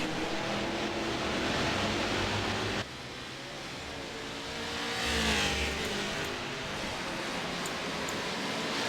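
Stadium Super Trucks racing in the iRacing video game, a dense engine roar continuing throughout, with one abrupt cut and a rising rev swell midway.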